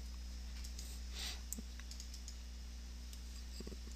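A computer mouse clicks a few times while working in Revit software, giving faint, sparse, soft taps over a low, constant electrical hum.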